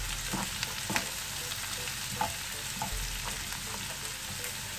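Onion, ginger and garlic sizzle steadily in a hot pan, a close, even frying hiss dotted with small spattering pops and occasional stirring knocks.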